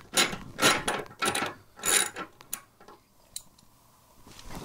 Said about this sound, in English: just break that bolt free while holding the other side with your quarter inch Allen.